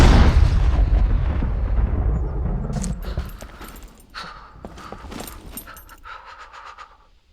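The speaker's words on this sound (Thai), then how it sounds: "อยู่ดีๆมันระเบิดข้างๆผมงงเลย" Explosion in the survival video game SCUM, a loud low boom at the start that rolls off and decays over several seconds into scattered crackles and debris sounds, heard alone without talk.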